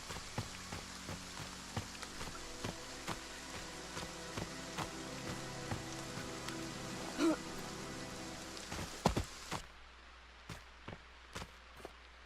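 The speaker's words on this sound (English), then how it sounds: "it just started pouring down rain over here all of a sudden" Heavy rain pours down steadily in the horror video game Friday the 13th: The Game, a dense and fairly loud hiss with scattered sharp clicks and thumps. The rain cuts off abruptly near the end and a few isolated taps remain.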